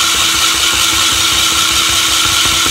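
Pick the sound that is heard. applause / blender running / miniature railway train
blender running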